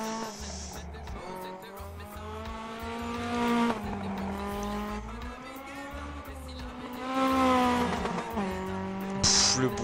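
Renault 5 Turbo rally car in Dirt Rally 2.0 on the Centenera gravel stage in Spain, its engine droning and revving up and down through the gears with tyre scrabble, close and steady, while someone talks over it.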